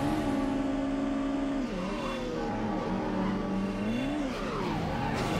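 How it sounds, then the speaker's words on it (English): A car in the PS2 racing game Midnight Club II rolls over, its engine roaring steadily with shifting pitch and tire squeal mixed in, loud and continuous throughout. "And I roll the car over again."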